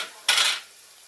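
Shark fish frying in a pan as it is stirred: one short, bright burst of scraping sizzle that quickly fades back to a faint background hiss.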